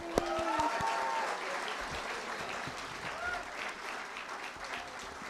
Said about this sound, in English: let's give our graduating batch a huge round of applause